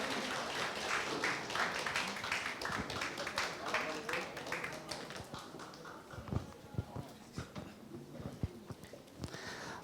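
A church congregation applauds as members are called forward, brisk dense clapping that thins into scattered claps and footsteps while people talk in the room.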